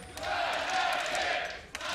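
A crowd in an esports arena cheers and roars steadily ahead of a Fnatic versus G2 League of Legends match, a loud dense wall of voices with a brief dip near the end.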